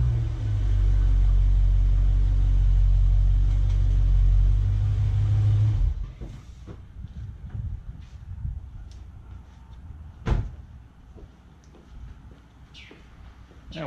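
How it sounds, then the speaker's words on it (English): A Dodge Challenger engine rumbles loudly and steadily for several seconds as the car is moved, then drops away, leaving quieter outdoor ambience with faint birds and scattered small noises. "let me move this car back into the shade"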